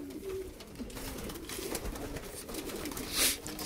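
A pigeon coos softly in a loft, low repeated calls over a hushed, airy background with a brief brighter chirp near the end.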